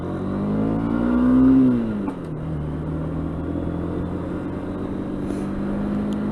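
A motorbike ridden near Newbury pulls away after downshifting through the gearbox, its engine rising to a loud revving peak before settling into a steady running drone, with no talk over it.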